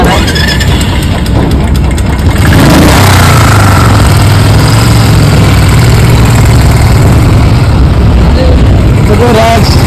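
Motorcycle engine running steadily and loud during a bike trip from Delhi to Jaipur, a constant low drone with wind rush throughout.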